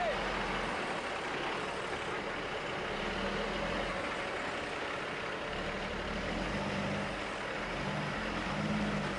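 A 6x6 truck pulling a low-loader trailer hauls a 26-ton excavator up a steep mountain road, giving a loud, steady heavy-diesel drone with a low rumble that holds for the whole stretch.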